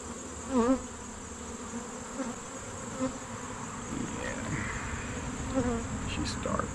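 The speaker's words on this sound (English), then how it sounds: "she does have more bees" Dense, steady buzzing of many Caucasian honeybees in a hive, a continuous insect drone with a few louder passes of individual bees close by.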